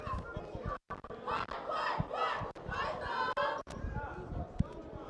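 An arena basketball crowd at a men's college game between the Wolves and Johnson University Florida rumbles and calls out steadily, with a ball bouncing sharply on the hardwood a few times amid the noise.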